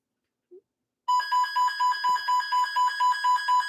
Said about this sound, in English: And there goes the weather alarm again.